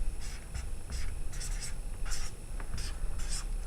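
Broad-nib Copic marker drawing large letters on paper, a series of soft close scratchy strokes in quick separate bursts, quiet and with nobody talking.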